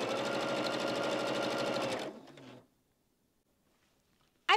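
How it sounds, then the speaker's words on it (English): Sewing machine stitching quilt pieces, a fast steady mechanical whirring for about two seconds that slows and stops, followed by silence and a brief click at the end. "So I'm going to sew this,"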